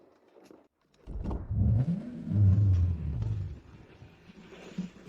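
A car engine rumbling and then accelerating, a deep roaring swell that peaks for a couple of seconds before easing back, close and prominent with no talk over it.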